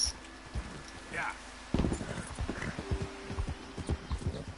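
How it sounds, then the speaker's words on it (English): Horse hooves clip-clop in Red Dead Redemption 2, a loose, irregular rhythm of soft thuds as the horse slows, with a brief whinny-like sound and someone talking over it. "Hang on, horse is slowing down."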